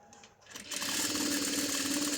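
A sewing machine runs steadily, stitching a sleeve seam at a stress point in a garment, starting up after a brief quiet moment and then whirring on close and continuous with no talk.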